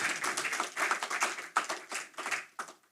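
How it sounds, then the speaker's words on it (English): Applause at the opening of the 29th COFCOR meeting in Suriname, a room of people clapping in dense, uneven bursts, close and moderately loud, with no talk over it. "Let us give him a round of applause for being elected"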